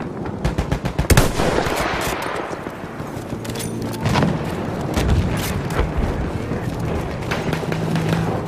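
Rapid automatic gunfire and scattered shots ring out during an enemy attack on an objective in the Battlefield 1 video game, a dense, continuous barrage with a few louder bursts and booms throughout.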